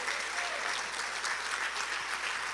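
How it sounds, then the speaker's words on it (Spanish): Church congregation applauding continuously in a brief, dense burst of clapping, moderately loud and without speech. "dele un fuerte aplauso a Cristo Jesús"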